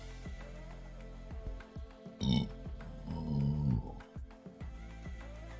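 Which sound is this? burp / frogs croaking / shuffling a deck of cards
burp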